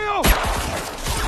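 A sharp burst of gunfire cracks out suddenly after a descending tone, followed by a few quick repeated shots amid a loud, chaotic film soundtrack.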